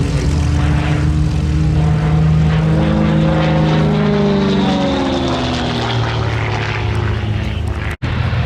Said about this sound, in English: It's a lot quieter with that four-blade propeller.